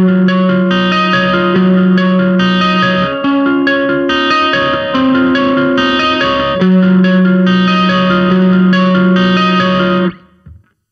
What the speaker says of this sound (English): here's an example of how it sounds through the Gibson 335.